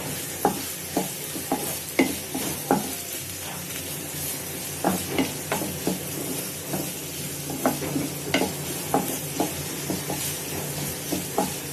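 Onions fry in an earthen pot for mutton curry, with a continuous sizzle under repeated rhythmic scrapes and taps of a spoon stirring through the whole stretch.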